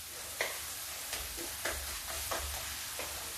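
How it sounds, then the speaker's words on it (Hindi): Garam masala with cinnamon and black pepper fries in oil for a cabbage curry, the masala releasing its oil, with a low steady sizzle broken by four or five distinct stirring scrapes at an even pace. "तो मसाला मेरा तेल छोड़ने लगा है"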